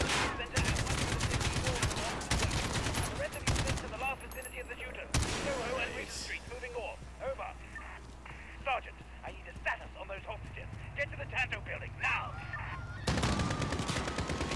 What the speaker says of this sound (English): Shots are coming from this way now.